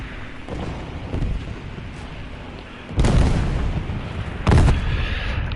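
Bombs dropped in War Thunder, a video game, explode as two heavy booming blasts over a constant rumbling engine drone, the first bigger and longer, the second a sharper burst shortly after.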